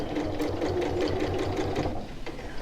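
Steady, rhythmic needle thumping from a sewing machine stitching a tote bag along a seam line, a close, even mechanical chug running nonstop with a slight slowdown near the end.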